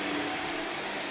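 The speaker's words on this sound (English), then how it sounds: "This is a really nice lightweight vacuum cleaner and it's very smooth." A lightweight Shark Lift Away vacuum cleaner runs steadily upstairs with a constant, close, whooshing motor whine and no pauses.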